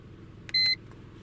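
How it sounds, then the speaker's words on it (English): A car diagnostic scan tool emits a short electronic beep once, a clean high-pitched tone lasting a fraction of a second over quiet background hum. "you can turn the beeping off if you really want to"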